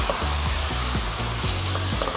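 Chicken pieces frying and being stirred in a pan of hot oil for biryani, a continuous loud sizzle with rhythmic scraping strokes of a spatula repeating about every half second, close up.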